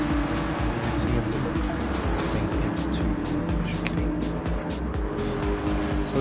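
Porsche GT3 race cars run close together in a sim-racing endurance race, a steady loud engine drone with layered harmonics and faint tire squeal, as the cars stay near, with commentary speech partly under it.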